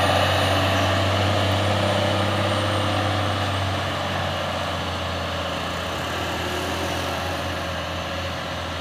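A UD Quester truck hauling a load of tyres climbs a hill, its heavy diesel engine droning low and steady throughout, close and loud with no speech.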